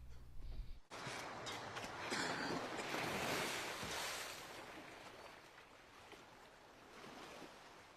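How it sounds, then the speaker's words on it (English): Calm ocean waves roll and wash in a steady surf hiss over the opening of the film Jaws. They follow a brief low sound at the start and fade slightly toward the end. "In Jaws' opening scene, mellow waves is how it starts out and everything feels normal."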